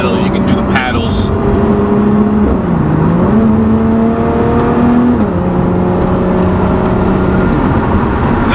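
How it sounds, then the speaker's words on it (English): Lotus Evora exhaust heard from inside the car while driving in sport mode, a steady close engine drone whose pitch dips and climbs with gear changes, with someone talking over it. "Now I can hear the exhaust a lot better."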